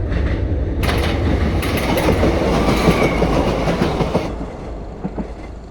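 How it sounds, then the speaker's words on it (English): A train rumbles loudly past at close range, wheels clattering rhythmically over the rails, then the noise fades as it moves away. "we hear another train approaching"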